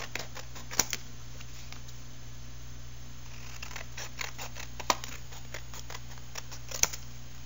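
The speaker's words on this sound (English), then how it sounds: "I'm going to cut it." Scissors cutting an art journal cover, a series of soft snips and crisp clicks scattered over a low steady background hum, close and quiet with no talking.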